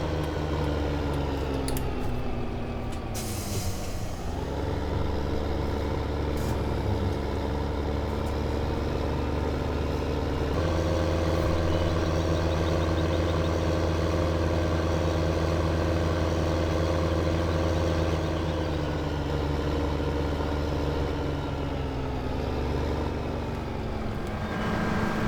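Tractor engine idling in Farming Simulator 15, a steady droning hum with a low mechanical tone that shifts in pitch at a couple of points, continuous and fairly loud with no talk.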